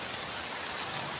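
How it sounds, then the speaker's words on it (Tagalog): Heavy rain pours down across a construction site where a steel deck is being installed on the second floor, a steady dense hiss with no voices, close and continuous throughout. "Si grabe nga ulan, no? Kita niyo ulan dito"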